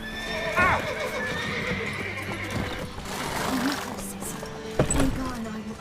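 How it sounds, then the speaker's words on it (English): A horse whinnies in a descending call early on in The Witcher 3: Wild Hunt, with another short neigh near the end, over a steady background murmur and some faint voices. "Gotta calm all the horses before they wake the guards."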